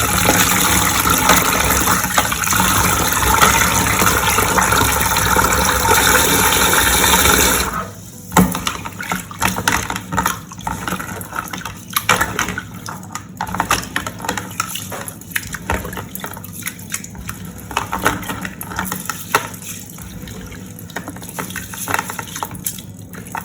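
Rice in a bowl under a strong gush of tap water for several seconds, then the flow stops and the grains are swished and rubbed by hand with wet, irregular sloshing, close and loud.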